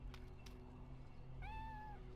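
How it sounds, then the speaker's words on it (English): A cat gives a single drawn-out meow partway through, faint and somewhat distant, heard over a steady low hum with no talking. "Is that a cat?"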